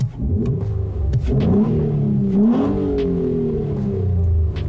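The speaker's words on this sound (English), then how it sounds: "we've actually got an aftermarket exhaust on here. It sounds great. Listen, I'm gonna rev that." A Nissan Altima Coupe engine revs hard up close through a throaty aftermarket exhaust, climbing in pitch, peaking, then dropping back to a deep burbling idle.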